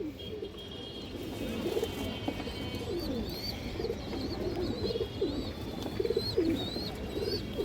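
Several domestic pigeons coo close by, overlapping throaty, rolling calls that continue without pause and layer over one another.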